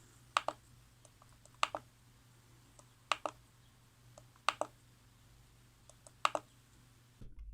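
The volume knob on an Edifier R1280DB bookshelf speaker is pressed in, giving five crisp, close mechanical clicks, each a quick double snap, spaced about every second and a half against a quiet background.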